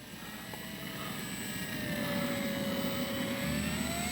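An X-Fly RC Spitfire warbird model plane flying, its steady engine drone and faint whine holding at moderate distance and swelling slightly as it passes, with no talk.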